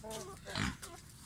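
A pig meant for roasting gives a few short, close grunts and snorts in quick succession, fairly faint, with one louder snort in the middle.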